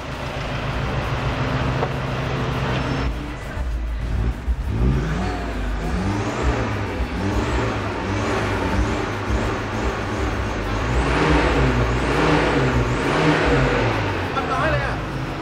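A car engine is revved repeatedly during a detox treatment to clear black smoke, its sustained rising and falling drone filling the space at close range while someone talks over it.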